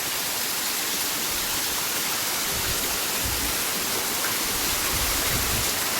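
Floodwater rushes through a village after heavy rain in the Ghed area near Keshod, a steady, loud broadband roar of flowing water that continues unbroken throughout with no voices.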